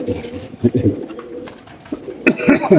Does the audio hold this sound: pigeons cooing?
yes